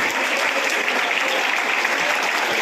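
Pupils and staff at a school morning assembly clapping together in a dense, sustained burst of applause, loud and close, with no voices standing out.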